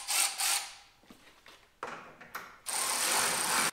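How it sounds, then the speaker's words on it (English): Ratchet tightening 10mm bolts, several quick bursts of clicking and whirring, close and fairly loud, with a longer steady run at the end. "we can take our ratchet, we can tighten them up"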